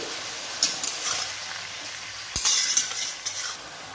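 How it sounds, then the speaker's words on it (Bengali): Turmeric being stirred into bottle gourd greens in a frying pan, with soft sizzling under a few scraping stirs of a spoon, close and moderately loud. "1 চামচ হলুদ দিয়ে দিলাম। নাড়ব একটু।"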